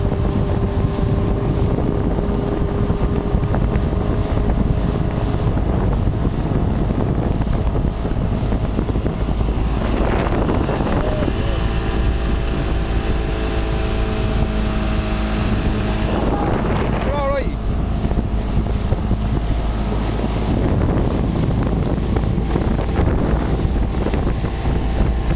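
A speedboat's motor drones steadily throughout under heavy wind buffeting on the microphone, with brief raised voices breaking in around the middle.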